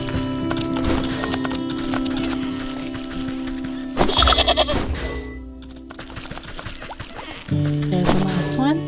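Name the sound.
goat bleating in a video game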